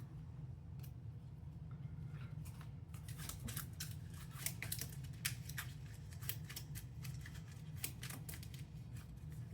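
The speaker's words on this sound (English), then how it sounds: "And now we shuffle these cards" Crisp, rapid riffling and snapping of playing cards being shuffled during a two-player board game, in short bursts, close by and fairly quiet, over a low steady background hum.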